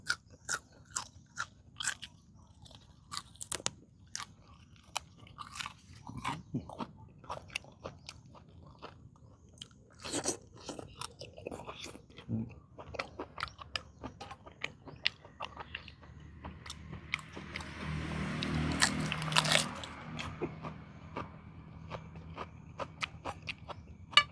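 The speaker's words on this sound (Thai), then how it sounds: "นี่ลองกินกับตำกุ้งสดครับ" Crunchy chewing of fresh shrimp som tam, a spicy Thai salad, heard as soft close bites and crunches scattered irregularly throughout, faint and intermittent with a brief rustle near the end.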